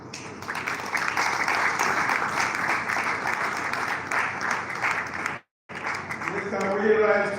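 Sustained applause from an audience at a flagging-off ceremony honouring a minister, steady and fairly loud, breaking off briefly before a voice begins speaking near the end.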